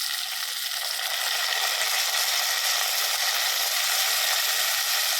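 Tomatoes fry in a pan with softened green chillies for Chennai-style mutton biryani, a steady, close, hissing sizzle that holds evenly without a break.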